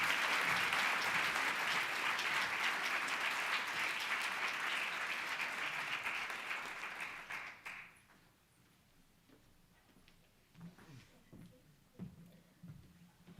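An audience at a National Book Critics Circle Awards finalists' reading breaks into sustained applause that fills the hall for about seven seconds, then fades out, leaving scattered faint claps and room noise.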